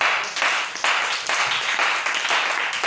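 Congregation applauding in acclaim of the Lord at a French-language church service, a dense, steady wash of many hands clapping with brief surges, close and loud throughout.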